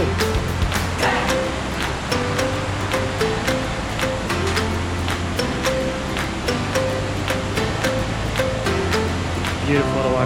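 Water rushing steadily at the Iguazu falls, a constant broad roar with a low hum and repeated sharp ticks over it, close and even throughout.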